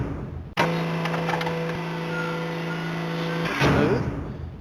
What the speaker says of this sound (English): when he runs up to the door and hits it, the door opens, has sound, and you can walk through the door